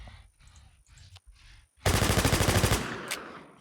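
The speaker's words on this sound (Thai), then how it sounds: "MP7 ยิงต่อครับ" An MP7 fires in the online shooter Infestation: a loud, rapid automatic burst of about a second. It follows a few softer, separated thumps.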